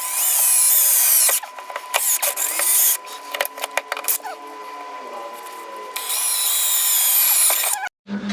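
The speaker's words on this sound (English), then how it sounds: "now let's drill the holes" A power drill whines at high speed in two long bursts, drilling holes to mount an under-seat cooling fan, with clicks, clatter and short pauses between, close and loud.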